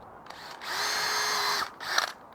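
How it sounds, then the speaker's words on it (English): A power drill whines up and bores a half-inch hole through wood held in a jig for an anvil stand, one sustained loud run followed by a brief second burst, close up. "I made a little jig so I can drill a 1/2 inch hole in each corner"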